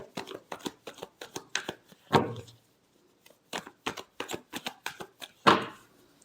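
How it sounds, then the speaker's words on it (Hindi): A deck of tarot cards is shuffled in quick, crisp bursts of riffling clicks, with a brief pause between sets and a louder snap at each break, close and quiet with no talking. "last shuffle"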